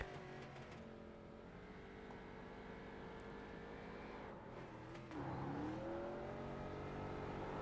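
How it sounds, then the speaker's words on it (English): A small street stock car engine in an iRacing race at Charlotte Motor Speedway revs under a burnout, a faint, thin drone that climbs and shifts pitch, then grows slightly louder near the end. "Go on board as we try to hear this tiny little engine produce a burnout here."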